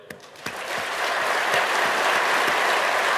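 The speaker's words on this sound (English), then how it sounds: "I'm clapping for them, soccer style" An audience applauds at the close of a talk on remote exploitation of an unaltered passenger vehicle, steady dense clapping building quickly and filling the hall, loud and sustained without speech.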